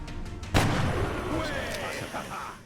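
A single heavy gunshot from the XCOM Long War strategy game bursts out close and loud, then a long rumbling boom decays over the next two seconds beneath faint game sounds.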